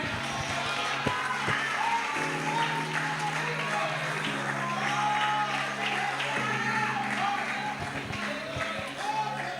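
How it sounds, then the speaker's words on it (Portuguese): A church congregation applauds through a worship service, the clapping blending with a sustained organ or keyboard chord and voices from the crowd, steady and fairly loud for the whole stretch. "Alguém diga amém e aplauda Ele"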